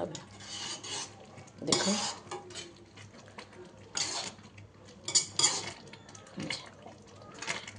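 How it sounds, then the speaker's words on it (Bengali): A utensil stirs and scrapes sweet, sour and spicy mango pickle in a pan, making short, irregular bursts of scraping and clinking with quiet gaps between them and a few faint words. "আর একটু নাড়াতে হবে কিন্তু, এই যে সাইডে যে লেগে যাচ্ছে এরকম করে নাড়াতে হবে"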